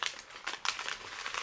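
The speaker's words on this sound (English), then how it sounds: "So I tore a piece of paper. I'm going to crumple one" A torn piece of paper is crumpled by hand close up, giving a quick run of crisp crackling and crinkling bursts with no talking.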